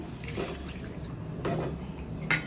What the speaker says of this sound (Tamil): அதனால் நம்ம புளி தண்ணி உடனே சேர்த்துடணுங்க